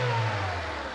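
A 2000 Honda Civic 1.6L engine, freshly tuned up with new exhaust manifold catalytic converter and spark plugs, revs up briefly and then settles back, loud and close with no talking over it.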